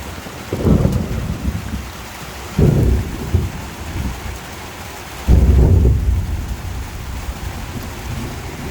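Thunderstorm over the Ávila countryside in autumn: three deep rolling thunder claps break in over steady rain on surfaces, the bursts loud and low, each fading into the continuous patter with no one speaking.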